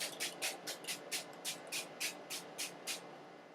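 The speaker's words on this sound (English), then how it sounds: "Just spray it and it makes you feel cool and very nice and fresh." An e.l.f. facial cooling mist spray bottle pumped about a dozen times in a quick, even rhythm, each spritz a short close hiss over a quiet room.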